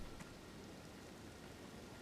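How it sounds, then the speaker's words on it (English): Steady rain falls in Elden Ring, a faint, even hiss of downpour with no voices over it. "Okay, it's foggy and raining."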